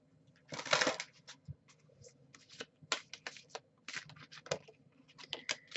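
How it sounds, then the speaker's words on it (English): Soul path oracle cards being shuffled by hand during a love reading, a string of quick papery riffles and flutters with short pauses between bursts, close and fairly quiet, no talking. "I want to pull a few soul path cards"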